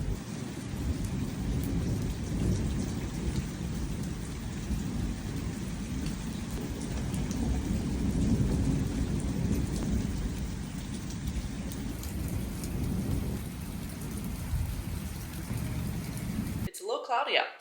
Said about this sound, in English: it rained, and it was pouring and lightning and thunder